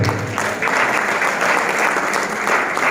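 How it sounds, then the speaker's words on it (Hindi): An audience at an Amway business event claps in a loud, sustained burst of dense applause that holds for about three seconds, with no talk over it. "एक बार अपने लिए जोरदार तालियां बजा दीजिए"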